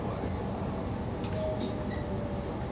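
A train arriving at Woy Woy station platform, with a steady loud rumble of a carriage interior rolling in and a couple of brief high squeals near the middle.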